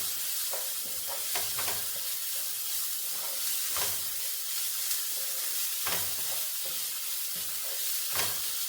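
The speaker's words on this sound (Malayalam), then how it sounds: "നമുക്കിതൊന്ന് വഴറ്റാം." Carrot and masala with a little salt being sautéed in a pan: a steady sizzle and hiss with scraping, clattering stirs of a spatula every few seconds, close and alone with no talking.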